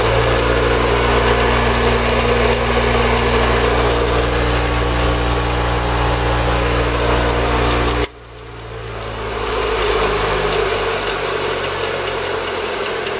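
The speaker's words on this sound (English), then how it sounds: "bench grinder. Has a grinding wheel on one side and a brush on the other" A Baldor 762 bench grinder with a grinding wheel and a wire brush runs at 3,600 RPM, a loud steady motor hum and whine that cuts sharply about two-thirds through, then picks up again as a lower, rougher drone.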